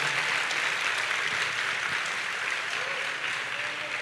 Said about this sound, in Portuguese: Ou se você vai aplaudir, aplaude direito.